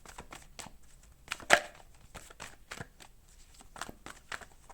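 Tarot cards are shuffled in quick, crisp riffling flicks with one sharper snap, quiet and close, with no talk over them.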